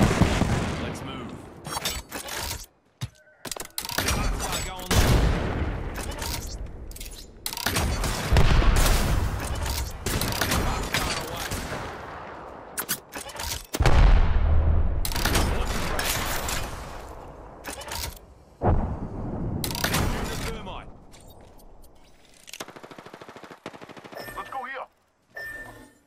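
Heavy gunfire in the battle royale shooter Apex Legends, with rapid automatic bursts, single cracks and brief pauses over about half a minute of loud, close combat, with voices speaking in between.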